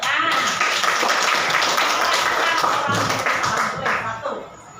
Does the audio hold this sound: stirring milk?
no